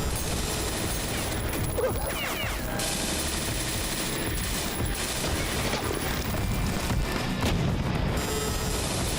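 Video game gunfire aimed at the player rattles in dense, continuous bursts and booms, loud and unbroken across the whole stretch.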